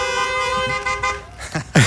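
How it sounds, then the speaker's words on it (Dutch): Car horns honk as applause outside a small camper van after an intimate live music session, several short toots layered over steady background noise, with a louder burst at the end. "Een toeterapplaus en meer dan verdiend, hè?"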